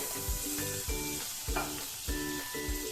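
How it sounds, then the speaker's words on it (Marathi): Butter melts in a hot, deep, thick-bottomed pan, giving a continuous close sizzle with a faint tonal hum and a few regular low knocks. "इथे मी आता एक जाड तळाचं आणि खोलगट असं भांड गरम व्हायला ठेवतीये एक मोठा चमचा बटर घालून घेते"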